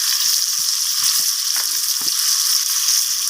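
Potatoes fry in oil with salt and turmeric, giving a loud, continuous sizzle with a few soft pops and crackles scattered through it.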